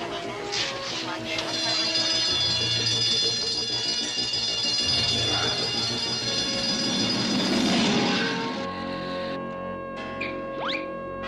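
A ringing electronic battery alarm tone sounds steadily for several seconds over busy cartoon music and effects, then cuts off near the end.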